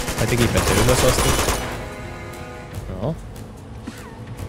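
Gunfire from the Uncharted 2: Among Thieves video game, in an ice cave firefight, as a loud dense burst of shots over the first second and a half, then fading into quieter game sounds with someone talking over it.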